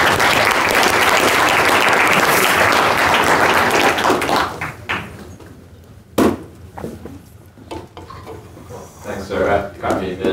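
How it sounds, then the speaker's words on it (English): A lecture audience gives a loud round of applause for a professor introducing the day's speaker, dense clapping that fades out after about five seconds, followed by scattered sounds, shuffling and a voice beginning to speak. "Why don't you give him a round of applause?"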